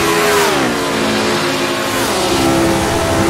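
A Cosworth DFV engine in a vintage racing car in a racing sim video game revs hard and loud, its pitch dipping briefly and then climbing steadily as the car accelerates, with no talk over it.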